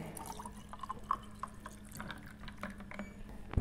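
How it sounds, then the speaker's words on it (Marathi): Water is poured into a glass of bael fruit pulp for sherbet, giving a quiet, close trickle with small drips and splashes and no talk. "हा अर्धेच ग्लास घ्यायचा आहे आणि अजून ह्याच्यात पाणी टाकायचं आहे"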